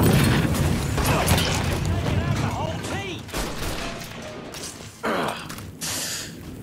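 A grenade blasts in a Mafia III gunfight, a loud burst over continuous gunfire and chaotic noise, followed by further heavy bangs as voices shout through the scene.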